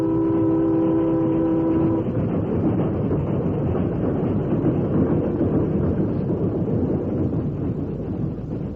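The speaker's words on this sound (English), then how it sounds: "Well, Dan, you saw the train pass as you wanted to" A train rumbles past as a sound effect in a radio drama, a loud continuous roar with a steady rattle throughout and a brief whistle-like tone at the start.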